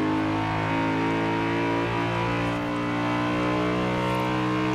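Steady, loud, rich drone of the V8 engine in a 2002 BMW M3-GTR race car in Forza Horizon 4, holding a nearly constant pitch with slight wavering and no talking.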